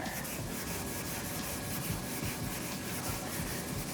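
Hand sanding of peeling paint on a Subaru STI body panel with 400 grit sandpaper, a steady close rasping rub that continues without pause and with no voices.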